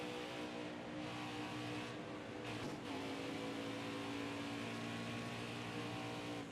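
Race car engine in NASCAR Heat 4 at the Brickyard, a steady loud drone of high revs with harmonic whine, holding constant throughout with a brief dip and shift midway, no talk.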